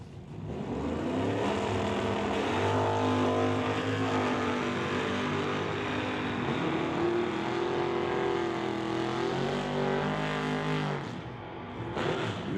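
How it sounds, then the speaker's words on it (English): Drag race launch of a 1968 Chevy Nova against a 1983 Ford Mustang, with loud, sustained engine roar from the cars across the run, then a sudden cutoff near the end. "Wheels up launch for Darren goes 986, 134 miles an hour."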